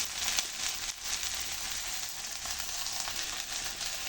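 Onion and green chillies frying in a hot pan give a steady, close sizzle that holds at an even level for the full length, with no talking.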